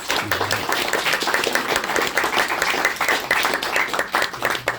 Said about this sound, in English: Can we give our panel a big warm round of applause?